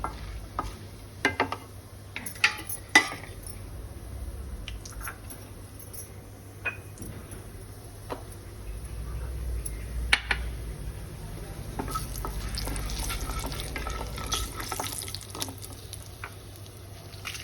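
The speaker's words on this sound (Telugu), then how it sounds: "పప్పు వేగుతున్నట్టుంది" Lentils fry quietly in a pan for a Telugu gooseberry dal, with a soft steady sizzle and scattered clinks and scrapes of stirring, fairly faint and close, with no talking.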